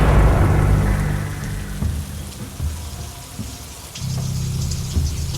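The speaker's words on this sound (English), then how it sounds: "With this heavy rain pouring down, I don't want to stay in this awful place anymore." Heavy rain pours down outdoors with no shelter nearby. The steady downpour is loud at first, eases briefly, then swells again, with low thunder-like rumbles and no voices.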